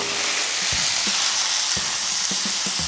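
Meat frying in a pan with two garlic cloves, a loud steady close sizzle with scattered low knocks and pops throughout, no voices.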